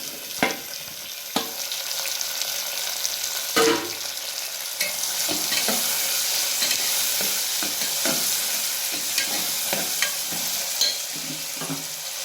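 Onions, capsicum and tomato fry in a pan with a continuous bright sizzle, broken by scraping stir strokes and occasional clanks of a utensil against the pan.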